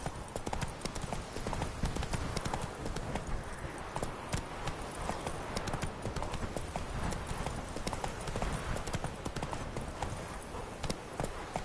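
Horse hooves from The Witcher 3, a rapid, steady galloping clatter of clip-clop beats that carries on without pause at close range.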